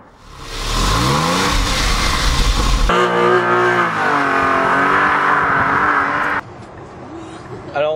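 A Tesla Model S electric car accelerates on the road with a rising whine heard from inside, steady and loud, then drops off as it eases, with a person talking over it.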